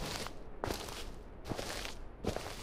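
Footsteps of the player character in the horror video game Heartwood, four soft crunching steps spaced evenly apart against quiet ambient background, with no talking.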